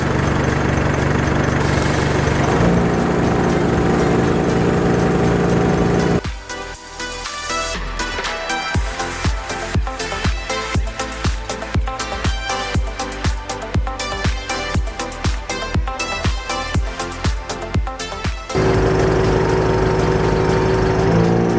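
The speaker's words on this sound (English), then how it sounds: "we'll do the normal compressor first" An onboard air compressor fitted to a vehicle runs steadily while pumping up a tyre, a loud continuous mechanical drone with a rapid rattling pulse in the middle stretch and a smoother hum at start and end, with no talking.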